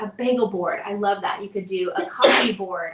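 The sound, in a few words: sneeze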